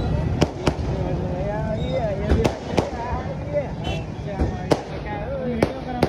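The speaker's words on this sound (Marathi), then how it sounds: "फटाक्यांची आतिषबाजी बघा किती मस्त दिसते" Fireworks burst overhead during a night celebration with a DJ setup near a Chhatrapati Shivaji Maharaj statue, giving sharp, loud cracks and booms at irregular intervals over steady crowd and music noise.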